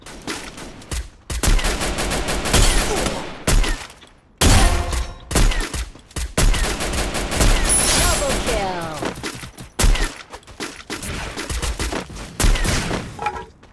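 Dense bursts of automatic gunfire and rapid shots crackle in an online battle royale shooter match, loud and close, coming in repeated volleys separated by brief pauses while players talk over the action.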